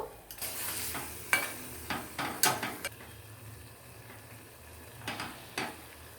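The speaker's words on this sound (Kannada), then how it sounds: "ಒಂದ್ಸತಿ ಚೆನ್ನಾಗಿ ಕಲಿಸ್ಕೋಬೇಕು" Radish palya being stirred with salt in a pan, giving soft scraping and scooping strokes in irregular bursts over a faint low sizzle, close and fairly quiet with no talking.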